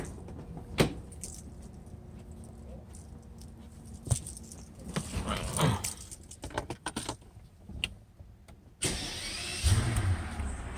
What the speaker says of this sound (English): and start this car.